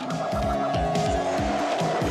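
An animated-series car speeds along with repeated tire squeals, its engine whining loudly and steadily through a series of quick swooping skids.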